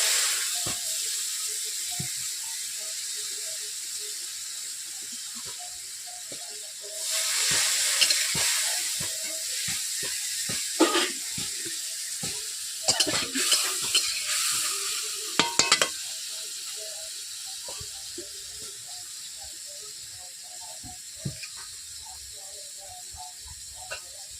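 Spices sizzle steadily in hot oil in a pan, with chili powder, turmeric and a little water added; a constant loud hiss swells as the water goes in, broken by several sharp spoon clatters and stirring scrapes.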